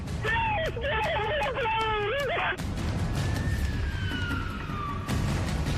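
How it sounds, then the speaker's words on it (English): An emergency ambulance siren wails with rising and falling tones, fairly loud at first, then gives way to a single long fainter glide over steady background rumble. "While the ambulance rushes Siobhan to the emergency room"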